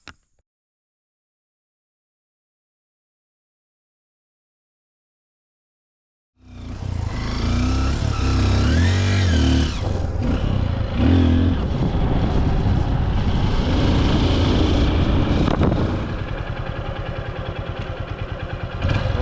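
A 6-month-old Honda XR 150 with about 7,700 km on it runs after several seconds of silence. Its engine rises into a loud, steady mid-pitched drone with some clatter and shifting revs as it rides on, close and alone.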